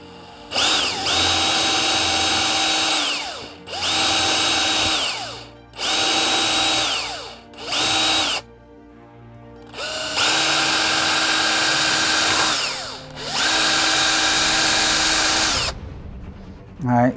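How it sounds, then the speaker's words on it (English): Power drill boring three holes into a model railroad layout, several sustained high whining bursts of a few seconds each, separated by brief pauses, close and loud with no talk. "what I just did there was I drilled 3 holes"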